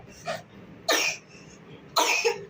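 Three sharp coughs spaced about a second apart, close and fairly loud, with faint quiet between them.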